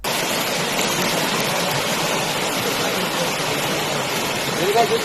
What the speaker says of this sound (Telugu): ఇగో ఇట్లా వాగుల నీళ్లు పోతుంటే దాంట్లోకెళ్ళి నడుచుకుంటా పోవాలట